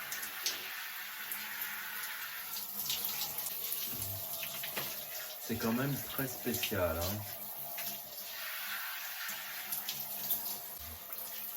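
Shower water runs steadily throughout as hair is shampooed, a constant close hiss of spray with someone speaking briefly over it.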